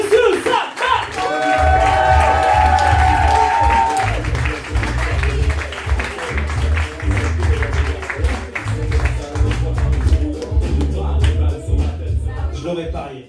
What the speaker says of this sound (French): acclamation de bruit pour Monsieur Saka